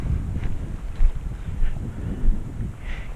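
Strong gusting wind buffeting a microphone outdoors at a trout fishery during a fly fishing session, a loud continuous low rumble with swelling gusts and no talk.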